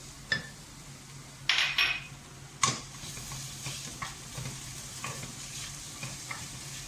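Ginger and garlic sauté with onions in a pan for a mutton and potato curry, a soft steady sizzle with several sharp clinks and scrapes of a stirring spoon against the pot, no talking.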